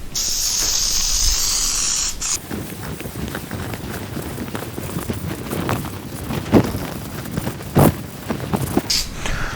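A steady aerosol hiss sprays adhesive from a can for about two seconds while repairing a VW GTI headliner, then stops, followed by shuffling, rustling handling noises and a couple of sharp knocks.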